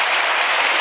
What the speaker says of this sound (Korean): 여러분 박수로 한번 학습 받으신 분들 축하해 주시기 바랍니다